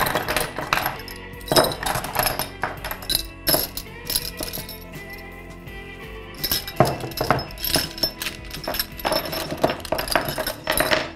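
Metal wrenches for a boat tool kit tossed into a bag, a close run of clinks, jangles and rattles with irregular metallic hits throughout.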